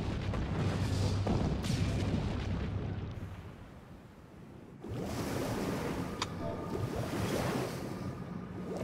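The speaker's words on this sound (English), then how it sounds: "fire the cannon" A cannon fires in the video game Final Fantasy XIV, with a sudden booming blast that breaks through surging, surf-like rumble after a brief lull.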